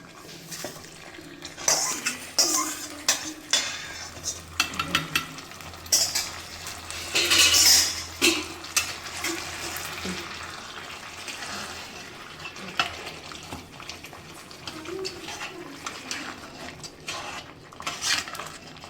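Raisins frying with cashews in a pan for sakkarai pongal, stirred with a metal spoon, giving a soft sizzle under repeated scraping and clinking of utensil against the pan, close up with no talking.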